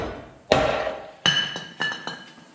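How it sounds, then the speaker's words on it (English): Hammer striking the fuel tank crossmember on a 1999–2006 GM truck, three sharp metallic blows with ringing decay, the first louder, spaced a little under a second apart in a workshop. "You grab a hammer."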